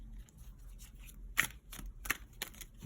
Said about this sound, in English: 5 minutes in, and I'm still shuffling.